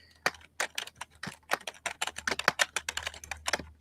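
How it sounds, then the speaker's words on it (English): Fast, irregular typing on a computer keyboard, crisp close-up key clicks in uneven bursts with short pauses, no voices. "I think I'm typing in y'all's ear."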